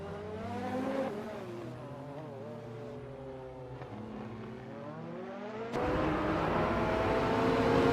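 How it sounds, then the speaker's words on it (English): Race car engine of a 2009 Mooncraft Scheiden in a racing video game, a steady droning whine whose pitch rises and falls with gear changes, growing louder and harsher near the end, with no talking. "Astro Sniper is driving a 2009 Mooncraft Scheiden"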